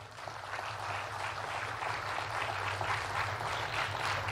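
An audience claps steadily throughout at a talk on the music industry, a dense, even wash of applause from many hands, moderately loud and with no voices over it.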